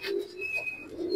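Racing pigeons coo softly at close range in a loft, a low steady murmuring that runs through the whole moment with faint higher bird calls above it.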